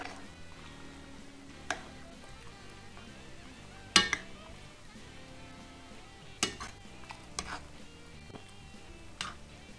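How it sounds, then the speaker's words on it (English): Spices such as cayenne being stirred into a pot of chili, quiet scraping and a few sharp spoon knocks against the pot rim at irregular intervals, close but soft, with no talking. "So let's mix these spices in here."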